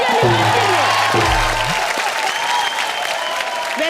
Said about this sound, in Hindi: एक बार जोरदार तालियां निम्रत के लिए।